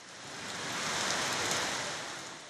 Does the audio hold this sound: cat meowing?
no